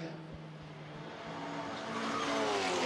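Touring cars race on track in an ETCC event at Circuito Internacional de Vila Real, engines growling and building louder as a car approaches, with faint tire noise beneath.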